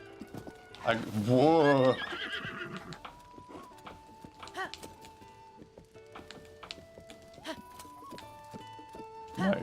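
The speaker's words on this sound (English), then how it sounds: "My horse is drifting." Horse in a Zelda video game, neighing loudly near the start, then clip-clop hooves galloping along with game music and a person's exclamation.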